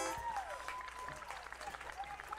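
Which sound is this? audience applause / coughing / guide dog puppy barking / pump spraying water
audience applause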